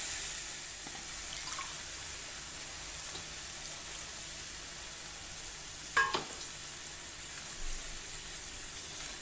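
A prawn curry with tomato mash simmers in a pan with a faint, steady sizzle and bubbling. A brief clatter from stirring comes midway.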